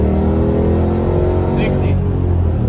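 Mercedes ML55 AMG truck under full automatic-transmission acceleration from a standstill, a loud steady engine roar and drivetrain rumble with a faint chirp partway through, heard from inside the cabin.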